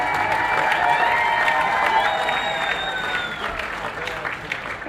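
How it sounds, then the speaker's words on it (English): Guests at a wedding reception clap and cheer together, a continuous crowd roar with applause and some chatter, strong at first and easing slightly toward the end. "let's give them a big round of applause, please"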